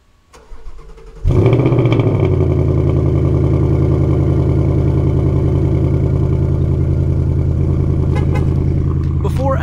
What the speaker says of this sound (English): let's get a cold start on my 2020 Mustang GT Performance Pack.